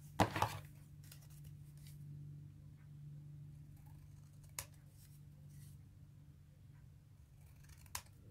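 Scissors snip through paper while cards are being made, a couple of close crisp cuts at the start and isolated snips later over a faint steady hum.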